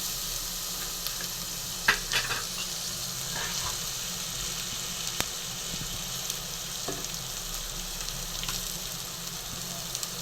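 Oyster mushrooms sizzle steadily in a hot pan, with occasional soft scrapes and clinks of stirring and no talking.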